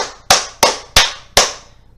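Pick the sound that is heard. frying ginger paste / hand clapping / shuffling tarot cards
hand clapping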